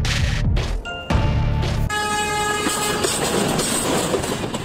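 The Banalata Express on the Rajshahi route runs at speed with a deep rumbling clatter of wheels, then a loud, sustained horn blast rings out over the rushing roll of the train.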